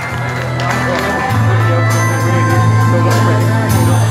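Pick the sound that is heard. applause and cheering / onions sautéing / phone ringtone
applause and cheering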